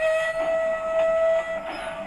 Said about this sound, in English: Stephen tried to whistle again.